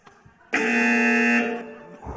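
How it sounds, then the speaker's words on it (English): A single loud, harsh electronic quiz buzzer sounds abruptly for about a second, then cuts off, leaving quiet with a faint voice afterward. "Who's gone for the buzzer?"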